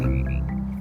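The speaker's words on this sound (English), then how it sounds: "What you hear instead is this chorus of frogs, the male frogs calling for the females" A dense chorus of male frogs calls continuously, a loud, steady croaking wall of sound with overlapping trills and no pauses.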